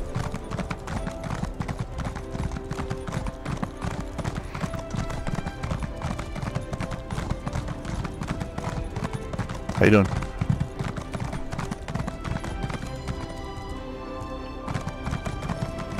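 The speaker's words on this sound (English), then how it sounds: "Horse, of course." Horse hooves clip-clopping at a steady rhythm in Elder Scrolls Online, with a brief whinny partway through and a voice speaking over the hoofbeats.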